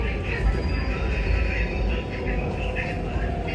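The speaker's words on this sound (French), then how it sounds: "c'est un métro souterrain qui passe aussi un peu au-dessus" Steady low rumble of a Bangkok metro train running along the rails, with faint higher squeal and a voice speaking over it.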